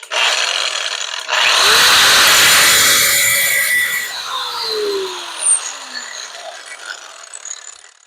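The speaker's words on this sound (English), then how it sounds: "Here's my grinder. Okay, it's plugged in, safety glasses on, holding this firmly." An angle grinder bites into steel clamped in a vise, a loud harsh whine that surges after a brief start, holds for a few seconds, then winds down with a falling pitch.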